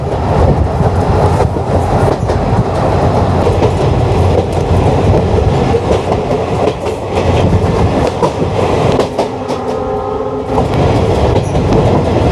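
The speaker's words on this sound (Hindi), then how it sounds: "ट्रेन की रफ्तार बहुत तेज है" A fast train on the line into Hisar junction rushes along the tracks, a loud, continuous roar with rhythmic clickety-clack of wheels that shifts briefly near the end.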